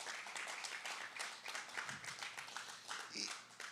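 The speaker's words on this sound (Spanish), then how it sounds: "démosle un fuerte aplauso a nuestro Dios" A church congregation applauds God with a faint, distant wash of mixed handclaps, irregular and low in level throughout.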